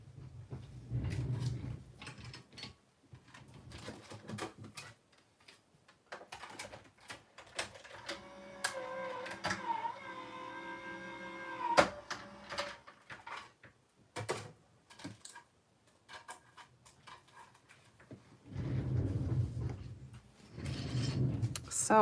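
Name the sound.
die cutting machine running card pieces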